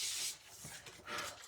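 Sanding block gently rubbed in circles over two-tone cardstock on a glass mat, soft, faint raspy swishes in a couple of short strokes, close and quiet.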